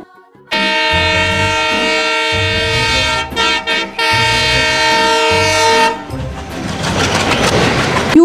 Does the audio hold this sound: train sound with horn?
yes